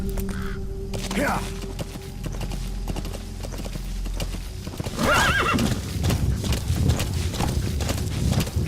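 Horse in the video game Metal Gear Solid V, hooves clip-clopping steadily with a clear whinny midway, alongside crow-like caws and a brief voice.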